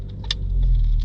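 A car being started after sitting parked for about seven or eight months, a brief cranking burst followed by a low rumbling engine that settles into a steady idle, close by with no talk.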